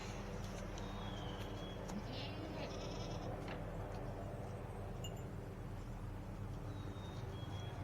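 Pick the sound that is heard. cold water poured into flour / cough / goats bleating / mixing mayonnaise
goats bleating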